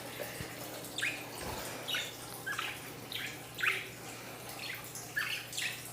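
Pet budgies in a home bird cage give soft, high chirps at a fairly regular pace, about one every second, faint and slightly distant over a low background hum.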